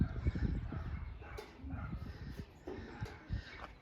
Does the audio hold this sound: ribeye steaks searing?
no